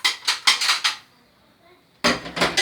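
Metal lid set onto a cooking pot while shrimp kofta cooks, sharp clattering clinks in quick bursts, a short pause, then more metallic rattling close by.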